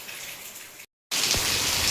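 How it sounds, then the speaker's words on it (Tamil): Heavy rain pours steadily in a dense, loud hiss, cuts out abruptly for a moment, then returns even stronger, with a splashing gush close by. "பார்த்தீங்களா மழை எப்படி பெய்யுது பாருங்கள்"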